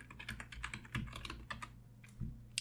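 Typing on a Windows computer keyboard, a quick irregular run of close, crisp key clicks with a few heavier thumps, heard alone.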